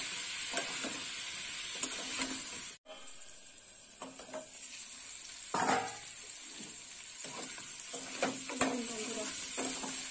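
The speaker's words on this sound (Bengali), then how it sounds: "আর লবণটা দেওয়ার পরে কষে নেবো।" Potato and pointed gourd curry, a vegetarian chochchori, stir-fried in a pan after salt is added: steady close sizzling with repeated spatula scrapes and stirring clatter, briefly cutting out near the three-second mark before resuming.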